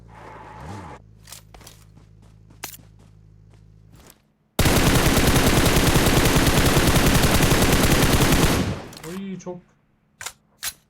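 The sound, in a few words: automatic gunfire spray in PUBG Mobile video game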